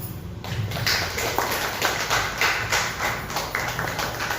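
An audience at a gathering claps, a dense, continuous patter of many hands close by that runs steadily for several seconds.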